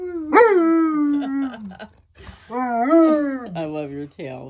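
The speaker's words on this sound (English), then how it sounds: "They get to howl together in their waterbed." Two dogs, a male and a female, howl together on a waterbed in long, rising and falling wails that overlap and swell close and loud, with a short break before a second round of howling.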